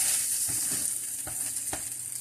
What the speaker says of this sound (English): I'm going to go ahead and move everything to the side of my pan here